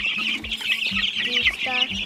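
Meat chicks on a farm clucking and peeping close by, a busy run of short, repeated calls with no talk over them.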